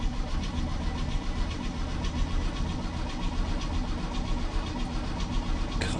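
1965 Chevy C10 engine cranking repeatedly in a continuous, even churning rhythm as it tries to start, loud and close with no voices.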